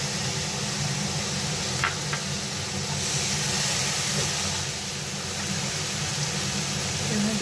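Eggplant sizzles in a hot pan with freshly washed peas added, a Bengali begun bhaja on the stove, giving a steady, even hiss of oil frying that continues without a break.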